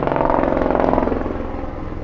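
A helicopter passes overhead, a loud, rough rotor drone with a rapid pulsing beat that holds steady and then eases slightly as it moves off.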